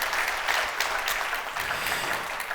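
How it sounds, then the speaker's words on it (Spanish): A church congregation breaks into steady, full applause, a dense wash of clapping that holds evenly for a few seconds with no voices on top. "dar un fuerte aplauso al Señor ahí por la palabra del Señor"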